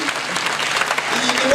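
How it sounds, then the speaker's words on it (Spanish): A crowd applauds at a worship night, broad continuous clapping filling the room at fairly close range, with voices mixed in underneath. "¿Por qué no les damos un fuerte aplauso desde Delicias?"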